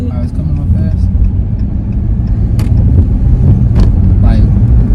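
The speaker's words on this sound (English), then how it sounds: "you see that car? Right here. How it's coming up fast?" A car approaching quickly on the road, its engine rumble and tire roar loud and close, swelling steadily with a few sharp clicks and knocks over the low drone.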